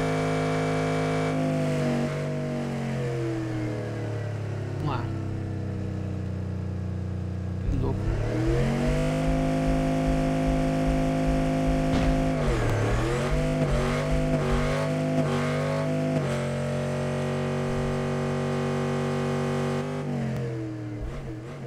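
A drag race car engine in the Street Outlaws video game holds a steady drone, then revs hard and climbs through repeated gear-change dips and rises. It stays loud and close throughout and eases off near the end.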